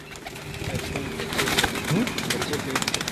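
Pigeons coo steadily on a rooftop in Pakistan, their low repeated calls near and clear, while someone talks over them.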